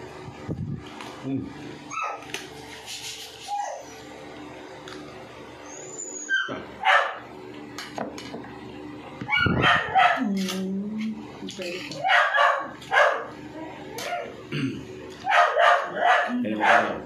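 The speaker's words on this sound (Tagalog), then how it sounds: "Ano naman yung aso namin maingay." A dog barks and yips repeatedly in short bursts nearby, mixed with whimpering, while people talk throughout.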